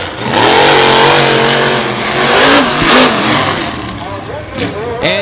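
Drag racing cars, named Avenger and Brutus, launch off the start line with a loud, rising engine roar and rapid revving, heard near and forceful while a commentator talks over it.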